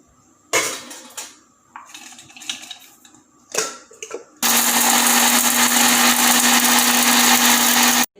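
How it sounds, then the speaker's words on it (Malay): Whole spices for a homemade biryani spice mix clatter into a dry grinder, then the motor starts with a loud, high, steady whirring roar that runs unbroken to the end. "Sekarang saya akan masukkan ke semua bahan dan kisar."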